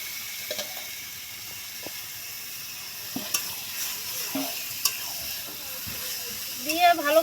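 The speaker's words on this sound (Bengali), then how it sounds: "এবার আমি কেটে রাখা মাংসটা দিয়ে দেবো মশলায়।" Chicken pieces for a Bengali chicken curry frying and stirred in a spice masala, a steady low sizzle broken by scattered scraping clinks of the spoon, close by, with a brief voice near the end.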